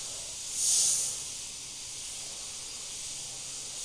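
A short burst of a used airbrush spraying paint hisses close up, rising and fading within a second over a faint steady hiss.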